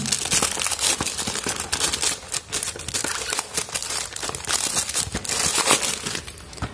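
Packaging of a cheap TWS earbud set being opened and unwrapped, a close, busy run of plastic crinkling, rustling and tearing with no talk.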